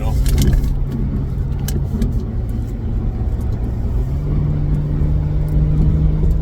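A car engine in a racing video game played on a PlayStation 5 Pro drones loudly and steadily while overtaking several cars, with a voice talking over it throughout.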